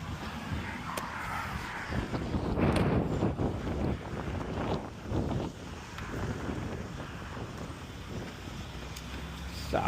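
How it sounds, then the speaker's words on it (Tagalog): Strong gusts batter the microphone with a rumbling, fluctuating roar, surging loudest early on and easing slightly later, no clear talking. "Uy, lakas ng hangin."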